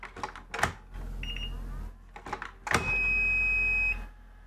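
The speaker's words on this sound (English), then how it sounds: "I got a long beep." A battery device emits a sustained electronic beep lasting about a second, preceded by a brief shorter beep and clicky handling sounds nearby.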